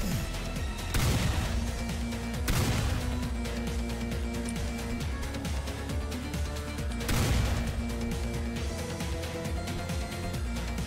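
Guns fire in the video game Dread Templar, with loud bursts of shots and heavy impacts layered over a dense, continuous action soundtrack, with strong blasts near the 1, 2.5 and 7 second marks.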